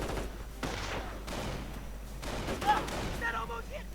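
Gunfire crackles through a battle in a real-time strategy game, dense bursts under steady background noise with a short sharper crack near the middle, mostly moderate in level and somewhat distant, alongside faint voices.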